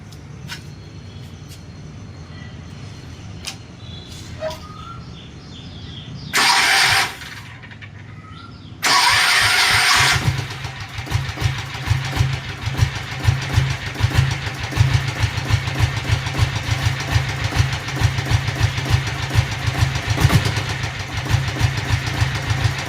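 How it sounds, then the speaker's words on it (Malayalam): A Royal Enfield diesel Bullet motorcycle starts after a couple of bursts of cranking, then settles into a loud, close, steady idle with a rapid, knocking diesel thump. Nobody talks. "അടുത്ത് നമുക്ക് ഡീസൽ ബുള്ളറ്റ് സ്റ്റാർട്ട് ചെയ്ത് നോക്കാം"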